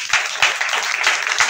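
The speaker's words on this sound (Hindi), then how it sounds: "छुट्टी हो जाओ ताली बजा दो बेटा" Students in a classroom clapping, a quick burst of several sharp claps close by, loud and brisk over a short span.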